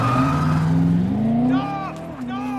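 A stolen car roars off in a rising engine sweep, then tyres squeal in a couple of sharp wavering bursts, loud and close, with people shouting over the scene.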